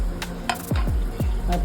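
Asafoetida and spices roasting in a pan for onion coconut chutney, stirred with a spoon that gives a few sharp clinks and scrapes against the metal over a low background hiss.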